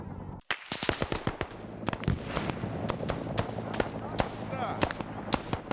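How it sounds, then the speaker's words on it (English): In an Arma Vietnam-era battle, a grenade goes off amid repeated gunshots: sharp cracks and bangs ring out irregularly over several seconds, with voices heard underneath. "grenade just went off in the middle of them"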